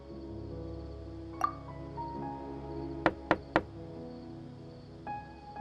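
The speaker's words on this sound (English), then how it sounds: "Let's try knocking." Three quick knocks on a door in the video game Genshin Impact, sharp and close, land in a tight even run over soft background music, with a single lighter tap earlier.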